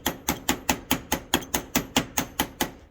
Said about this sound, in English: I'm just barely tapping it with this chisel all the way around